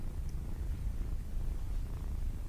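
A kitten purrs while being petted, a low continuous rumbling purr heard close and steady for a few seconds with no other sounds, as a sound effect in an audio drama.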